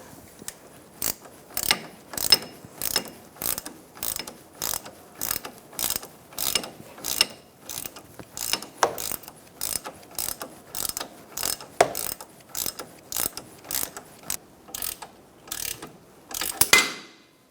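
A hand ratchet tightens a front strut bolt on a 2004-2009 Mazda 3: a long, even run of about two dozen sharp clicking bursts, close and alone, ending in a couple of heavier final clicks.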